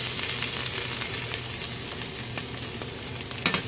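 Garlic sautés in hot cooking oil with a close, steady sizzle, and a small stirring clink comes near the end.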